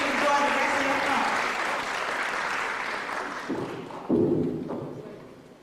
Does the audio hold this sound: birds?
no